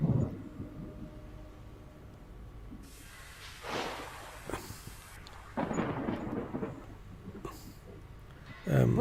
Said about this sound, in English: I'm not sure if you can hear my thunderclack.